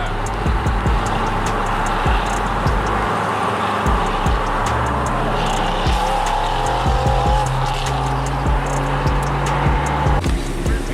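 Car revving and tire squeal at a large nighttime lights-out car meet in Charleston: a loud, continuous engine roar with repeated sharp squealing bursts and skids throughout, close and dense, no talking.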